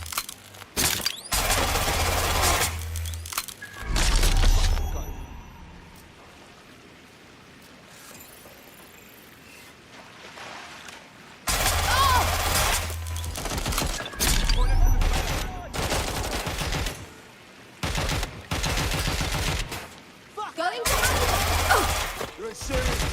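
Gunfire in the video game Watch Dogs Legion arrives in several loud, dense bursts of rapid shots, separated by quieter stretches of low background ambience, with faint voices in places.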